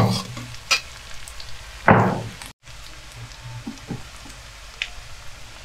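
Onions and chopped chilli frying in a pan while being stirred, with a gentle sizzle, a few knocks and scrapes of the spoon, one louder rushing sweep, and a brief dropout midway.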